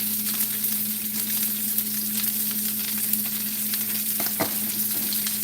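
Meat sizzles steadily in a frying pan, a continuous close crackle and hiss with occasional sharper pops, seasoned with salt and pepper and no talking.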